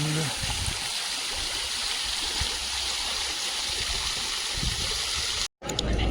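Fountain on Place Jeanne d'Arc splashing steadily in an open town square, a continuous rushing wash of water with a brief break near the end.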